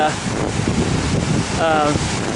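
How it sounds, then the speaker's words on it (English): Strong wind buffets the microphone over rushing waves along the windy shoreline of Escanaba, a loud, steady roar with no break. "If you can even hear me between the waves and the wind, I don't know."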